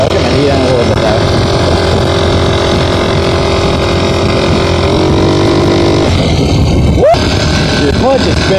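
A GY6 scooter engine drones loud and steady while riding with a group of 50cc and 150cc mopeds, a constant buzzing roar under wind, with a voice talking briefly over it near the end.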